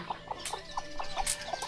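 Chickens cluck around a wooden chicken house in a remote mountain-valley village. The calls are short and regular, about one every quarter second, at a moderate distance with no talk.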